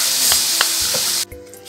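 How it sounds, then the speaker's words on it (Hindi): Spices and other ingredients fry loudly in a hot pan for chicken lasagna, giving a close, dense sizzle broken by a few stirring knocks, then the hiss drops away sharply near the end. "आपने सब चीज़ों को तकरीबन 5-7 मिनट के लिए फ्राई करना है।"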